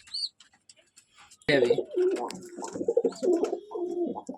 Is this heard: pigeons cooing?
yes